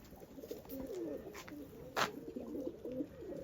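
Pigeon cooing softly in a loft, a low repeated rolling coo running steadily under faint background noise, fairly quiet and close.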